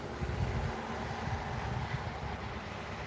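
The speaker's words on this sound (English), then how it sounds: "the wind's picking up again" Wind gusting outdoors on a freezing winter day after a night of freezing rain, a steady low rumble with buffeting bursts against the microphone, continuous and fairly loud throughout.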